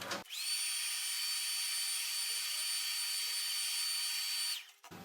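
A heat gun warming an iPad digitiser blows with a loud, steady whine and rush of air that starts abruptly and runs for several seconds before cutting off, close by with no talking.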